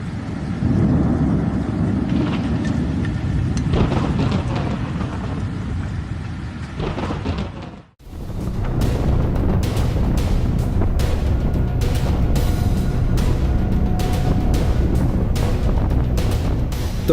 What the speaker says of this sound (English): The roar of the tornado,